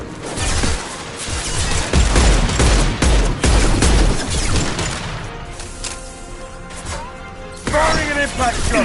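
Impact-shot gunfire in the Mass Effect 2 video game, heavy rapid bursts and crashes in the first half easing into scattered shots, loud and close amid game voices.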